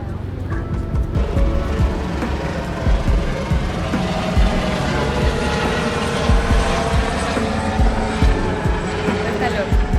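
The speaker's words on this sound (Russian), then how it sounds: "Вертолет." Rotor thumping and engine drone of a helicopter passing over Manila, Philippines, steady and fairly loud, with rattling mechanical noise layered over it.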